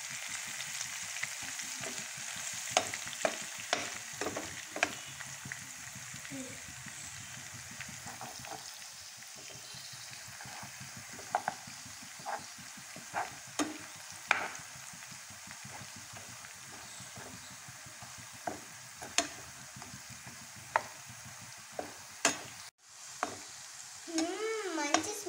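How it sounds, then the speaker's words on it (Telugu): Tempering seeds, crushed garlic paste and dried red chilies fry in oil for a green bean pickle, a quiet continuous sizzle punctuated by sharp spoon scrapes and taps against the pan as it is stirred. "ఎండు మిర్చి సో మిక్స్ చేయాలి"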